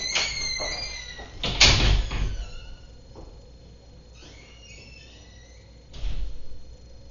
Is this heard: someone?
yes